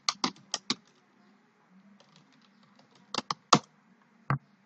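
Typing on a computer keyboard, entering an email field's placeholder text, in quick bursts of a few clear clicks separated by a pause. The clicks are close and fairly loud, with a faint hum underneath.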